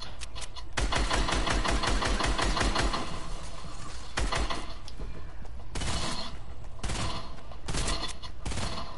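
Fast, continuous SMG bursts in Fortnite, a loud rattling stream of shots with short pauses between volleys, close and heavy throughout.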